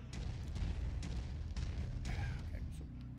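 Autocannon fire from a mech in the MechWarrior 5 video game, heard as a continuous run of heavy, booming low-end blasts that keeps on through the whole stretch.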